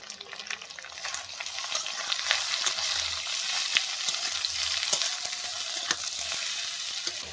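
Cooked potato and finely chopped capsicum sizzle steadily in a pan for chowmein, with scraping stirs and clinks of the spatula breaking through the constant hiss, and no talking.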